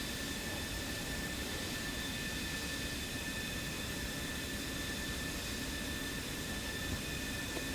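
Steady, continuous roar of F-15 and F-16 jet fighters in a combat flight video game, a faint, even wash of engine noise with no talk.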